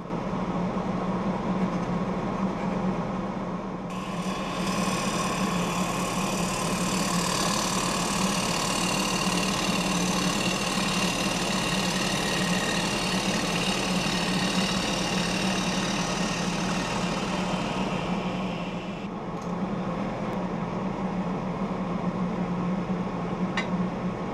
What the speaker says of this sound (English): Now all I have to do is scrape the inside to get rid of ridges